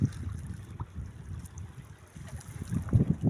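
Rough water churns and sloshes around a boat, with low rumbling wave surges building louder toward the end.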